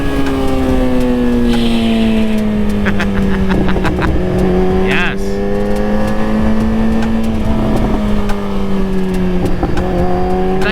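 Kawasaki ZX12R motorcycle engine running rich and held at high revs, a loud, sustained roar with slowly wavering pitch and occasional rises and dips, recorded close up.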